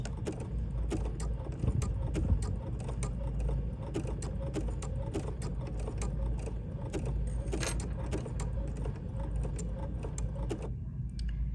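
A Brother B 790 PRO sewing machine stitches a buttonhole, its needle clattering in a fast, steady mechanical rhythm that fills the whole stretch and stops abruptly near the end.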